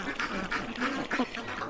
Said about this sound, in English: they have all these ducks and you get to feed them